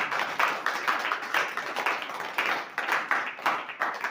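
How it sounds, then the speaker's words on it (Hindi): A church congregation claps together in a steady, rhythmic beat during a Hindi worship service, the pulses moderately loud and fairly close for a few seconds. "जोरदार तालियां सुंदर बातों के लिए।"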